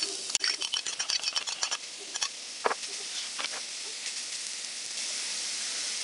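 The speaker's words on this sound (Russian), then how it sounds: "пока морковь обжаривается" Carrots sizzle and hiss in hot sunflower oil in a frying pan, with quick scraping stirs and clicks at first, settling into a steady frying hiss.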